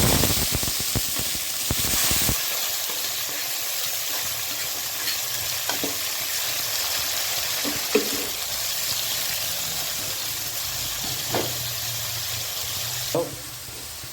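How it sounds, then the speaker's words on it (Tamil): Onions with green chilies sautéing in a pan at home, a steady, close sizzle and fry with occasional stirring clinks and scrapes, strongest at the start and then settling into an even hiss. "நல்லா வதங்கட்டும் வெங்காயம்"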